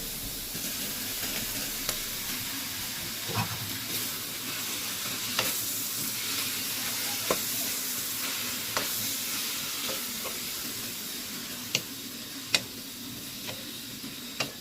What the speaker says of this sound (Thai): ผัดผักให้สลดแล้วเราก็ใส่วุ้นเส้น